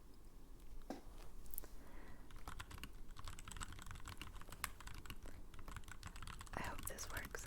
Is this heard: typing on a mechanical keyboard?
yes